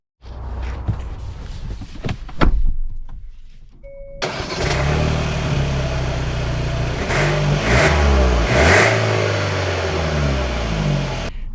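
A 2024 Hyundai Santa Fe Calligraphy SUV: a few soft knocks and clicks come first, then the engine starts and settles into a steady, fairly loud run with slight rises in pitch, as though pulling away.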